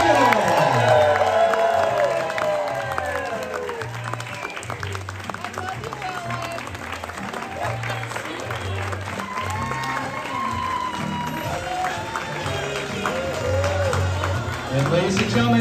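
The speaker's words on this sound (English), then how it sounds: "a nice round of applause for the mother and stepfather of the bride, Ellen and Steve." Guests at a wedding party clap and cheer as the bride's family is introduced, a dense, loud crowd roar with whoops and shouts over a thumping music beat, while an announcer's voice and chatter run through it.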